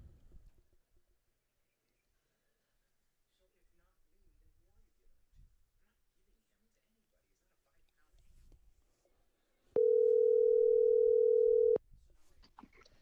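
Telephone dial tone after a dropped call: a clean, steady tone lasts about two seconds, set against near silence and faint murmuring.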